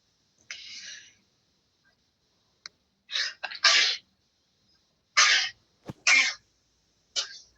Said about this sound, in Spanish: no he podido cerrar mi micrófono para estornudar